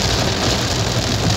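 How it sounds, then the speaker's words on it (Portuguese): Heavy rain pours down while car tires throw up spray on a flooded road in Brazil, a dense, loud, unbroken hiss and roar with a low rumble beneath and no talk. "Foi uma pequena nuvem, mas muito forte a chuva"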